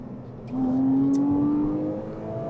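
A Porsche Cayman R engine pulls through the gears, a brief, fairly faint mechanical hum that swells for about a second and then eases back.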